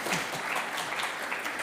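A symposium audience applauds to welcome a speaker at an energy-transition event, a steady, dense wash of many hands clapping at moderate distance, continuous throughout with no voices over it.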